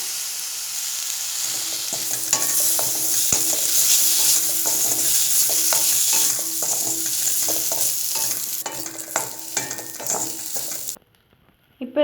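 Chopped tomato frying with green chilli in a pan for hotel-style mint chutney, a steady loud sizzle with repeated spoon scrapes and stirring strokes throughout, then cutting off abruptly near the end.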